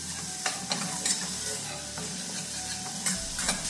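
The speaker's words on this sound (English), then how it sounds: "now we're gonna add the mushrooms in it" Thick-sliced mushrooms sizzle steadily in a hot pan for Steak Diane, a continuous frying hiss broken by a few sharp scrapes and clicks as they are stirred, close and fairly loud with no talking.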